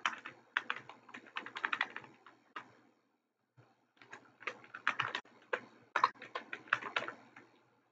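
Someone types on a computer keyboard in a quiet room while entering data in an Excel spreadsheet. Rapid clicky keystrokes come in two bursts with a brief pause between them, close and fairly soft, with no talking.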